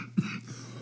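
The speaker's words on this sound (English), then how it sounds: "while you're coughing" A single short, muffled cough or throat clear sounds once near the microphone during a podcast recording, brief and moderately loud against a quiet room.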